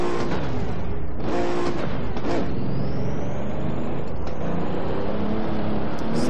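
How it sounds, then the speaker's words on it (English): Pagani Huayra supercar engine in the racing game Assetto Corsa, loud revving with rising and falling pitch through repeated gear changes and a sustained high whine, heard on its own without talk. "I'm gonna shut up for a second, man, so you can hear the engine noise"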